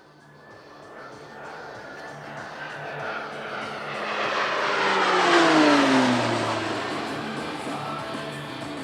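A Pilatus PC-9M turboprop trainer of the Slovenian air force flying an airshow display passes overhead, its engine drone swelling to a loud peak with a falling Doppler pitch sweep, then fading slightly.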